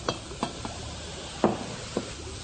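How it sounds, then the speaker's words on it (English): Vinegar and baking soda fizz in a pitcher, giving off carbon dioxide as a faint, steady hiss broken by a few soft clicks and taps, with no talking. "That fizzing is carbon dioxide gas coming off."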